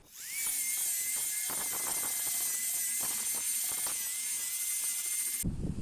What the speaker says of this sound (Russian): Теперь берем машинку и начинаем шлифовать.